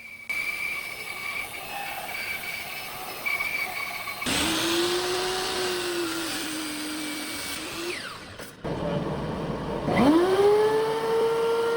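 White oak boards are fed through a loud woodworking milling machine, a steady high whine and roar that rises as the cutter bites, drops briefly, then surges again with a sweeping tone, close and without speech.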